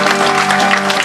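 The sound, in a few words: applause for the bar team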